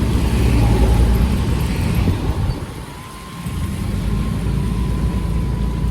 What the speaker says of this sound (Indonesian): di sini terlihat kendaraan ramai